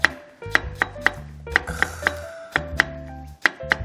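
A knife chops zucchini on a cutting board in a quick, regular rhythm of crisp taps, close up.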